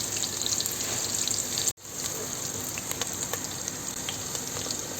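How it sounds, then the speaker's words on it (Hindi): Onions fry in a pan for keema aloo with a loud, continuous sizzle. The sizzle breaks off for an instant partway through and then carries on at the same level. "ये जो है प्याज हमारा गरम हो रहा है"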